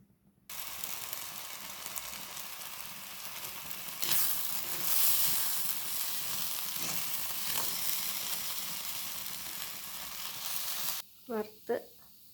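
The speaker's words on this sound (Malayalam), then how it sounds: "അത് ചൂടായി കഴിയുമ്പോൾ നമുക്ക് നമ്മുടെ കഴുകി വെച്ചിരിക്കുന്ന മൂങ് ദൂളി ചെറുതായിട്ടൊന്ന് ഫ്രൈ ചെയ്തെടുക്കണം." Washed moong dal fries in a hot pan, giving a steady, close hiss of sizzling with occasional stirring scrapes, and a brief voice at the end.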